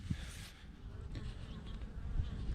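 Honey bees from a tree colony fly around outdoors in a continuous low buzzing hum with a few louder passes close by, faint background noise throughout.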